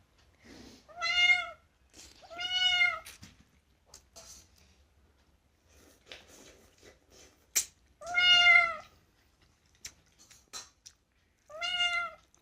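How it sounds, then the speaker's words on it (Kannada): A cat meows while eating Maggi noodles, giving four clear, loud meows spaced a few seconds apart. Quiet rustling and faint background sounds fill the gaps between them. "ನಮ್ಮ ಬೆಕ್ಕು ಮ್ಯಾಗಿ ತಿಂತೈತೆ"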